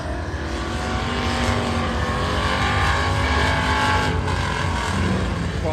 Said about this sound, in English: Here's old TJ Pratt, one of the RC cars.